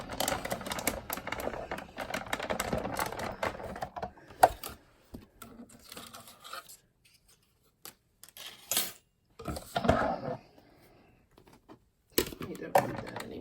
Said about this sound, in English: We'll run that through our die cutting machine.